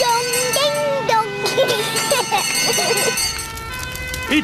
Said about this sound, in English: It's Miss Rabbit's fire engine.